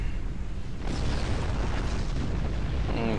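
Torpedoes fired and exploding in the Star Trek Online space game, a dense rumbling boom that surges in after a quieter moment and sustains loudly to the end.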